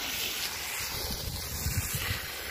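A steady rush of wind fills the clip, with low rumbling gusts buffeting the microphone throughout.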